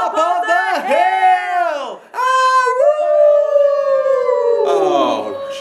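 A wolf howls in long, rising-and-falling tonal calls, loud and close, in two drawn-out phrases with a brief gap between them, followed by a higher whining tail.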